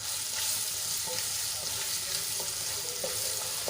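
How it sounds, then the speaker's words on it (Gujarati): Finely chopped onions sauté in gram flour in a pan, with a dense, steady sizzle close up and light scraping from stirring. "ડુંગળીને આપણે ગુલાબી રંગની થાય ત્યાં સુધી સાંતળી લેવાની છે।"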